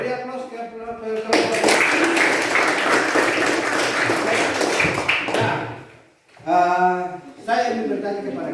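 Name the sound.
classroom applause for group 5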